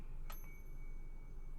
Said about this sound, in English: But let's ring the bell.